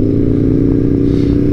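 A Harley-Davidson motorcycle engine idling close and loud, a deep steady throb with even low pulsing and no change in pitch across the short stretch.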